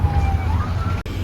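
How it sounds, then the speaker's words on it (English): A fire truck siren wails with a rising tone over a heavy low engine rumble, loud and close, cut briefly near the end. "All the siren effects, you know."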